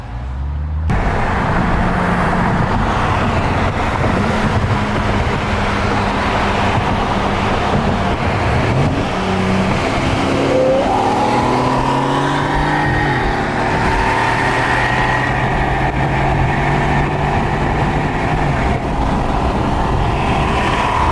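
A Mercedes E550 accelerates hard on a late-night street run in Mexico, its engine note climbing steadily over a sustained loud roar with rising tones, close and continuous, without talk.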